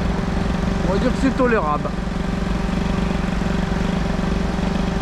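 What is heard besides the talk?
Peugeot 103 moped engine idling after carburetor tuning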